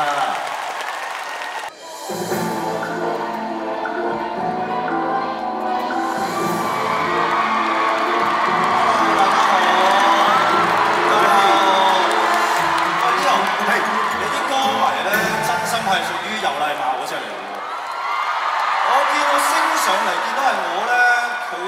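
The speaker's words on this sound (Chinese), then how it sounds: "繼續歡呼拍掌" A large crowd at a Hong Kong Coliseum concert bursts into cheering, whooping and clapping after a sharp opening hit, the roar swelling and holding loud for around twenty seconds with shouts and voices mixed through it.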